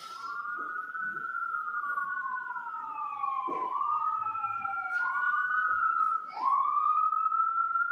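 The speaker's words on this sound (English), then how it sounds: "If you could wait, Mr. Wolk, until the sirens pass." Several emergency vehicle sirens wail continuously and overlap as they pass, their pitches rising and falling while the loudness stays steady throughout, replayed during a courtroom trial, with no speech.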